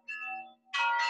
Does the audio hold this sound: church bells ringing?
yes